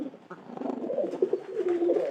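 A pigeon coos softly close by in a short, low, throaty call that swells and falls, alone without talk.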